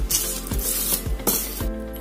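Crumbled ingredients sizzle loudly as they dry-roast in a pan, the steady crackle broken by a few rhythmic scraping strokes of stirring, close up and without voices.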